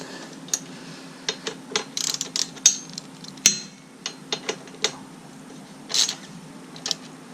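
A ratchet wrench tightens bolts on a Moto Guzzi V7 motorcycle silencer, giving sharp close clicks in irregular short bursts, with a couple of louder metallic knocks in between.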